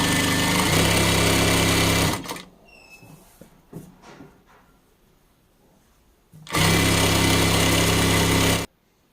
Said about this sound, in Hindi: इस वाली मशीन को मैंने जीन्स पे भी स्टिच कर लिया है, सिलाई कर ली है